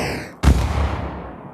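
Single gunshot effect from a game under development, a sharp loud bang after a brief quiet lead-in, followed by a decaying boomy tail; no talking.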